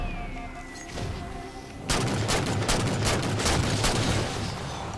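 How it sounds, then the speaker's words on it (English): Scattergun shots in the Halo 4 campaign: after a quieter start, a loud, dense run of blasts lasts to the end, layered over the game's background sounds. "That scatter gun just let me have it."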